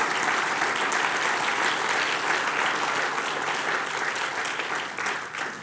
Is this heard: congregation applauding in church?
yes